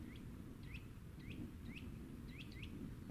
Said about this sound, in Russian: Только птички поют.